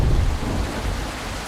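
Heavy rain pours steadily while deep thunder rumbles loudly in a video game, with no talk over the storm.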